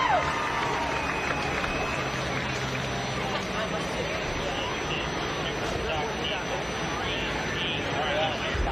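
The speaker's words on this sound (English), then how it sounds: "Fans, let's give a nice round of applause." A grandstand crowd at a super stock diesel truck pull applauds and cheers for the new leader, a continuous, distant roar of clapping and voices under an announcer.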